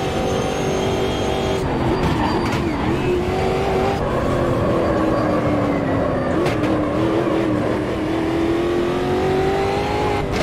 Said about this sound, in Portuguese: Então vamos soltar o push to pass.